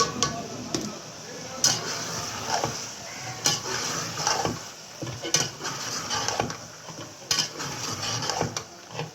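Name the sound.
peas added to pan of fried fenugreek, stirred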